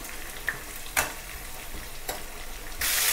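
Curry leaves and masala roast in a hot pan with a steady close sizzle, a couple of sharp stirring taps, and a louder surge of frying at the very end.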